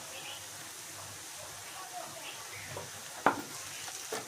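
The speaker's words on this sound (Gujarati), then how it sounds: "ધીમા ગેસે આપણે ડુંગળીને બધી સાંતળી લેવાની" Chopped onions sauté gently in a pan over low heat for chana masala, giving a faint, steady sizzle. A sharp utensil clink comes near the end, followed by a softer knock.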